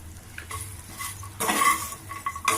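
Chopped ivy gourd coated in gram flour being stirred as it fries in a pan, scraping spoon strokes over a low sizzle, with louder bursts of clattering metal and hiss coming in quick, close bursts.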